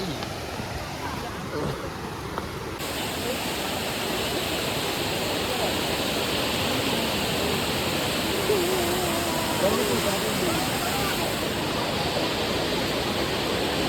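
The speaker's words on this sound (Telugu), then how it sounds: "ప్రజెంట్ మనం అయితే అనంతగిరి వాటర్ ఫాల్స్ దగ్గర అవుతున్నాం" Ananthagiri waterfalls give off a steady, broad rushing roar that fills the whole scene from start to finish, heard from nearby, with faint voices now and then.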